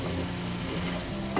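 Softened cooked green peas are stirred in a pan, giving a continuous close sizzle with a soft scrape near the end.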